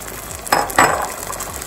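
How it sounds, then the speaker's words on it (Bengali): Chopped tomatoes drop into a hot karahi for chicken karahi, making two quick soft splatters followed by a faint sizzle. "আর দিয়ে দিচ্ছি টমেটোগুলো"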